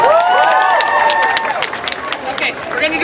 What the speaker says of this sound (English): Let's have a round of applause again for Kayoko.